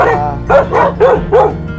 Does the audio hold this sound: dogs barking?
yes